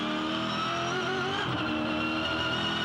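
Supercars racing on a wet, slippery track on slick tyres, engines screaming loud and close with a continuous high whine and shifting pitch as the cars slide past in a tight pack.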